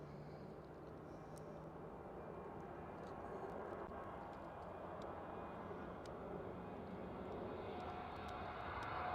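A Corendon airliner at Amsterdam Schiphol airport makes a faint, distant engine rumble that swells slowly, with scattered small clicks over the broad drone.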